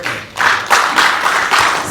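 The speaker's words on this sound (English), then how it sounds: "Round of applause for that." Brief applause from a church audience: a burst of dense clapping that swells and fades in waves, fairly close and loud with no talking.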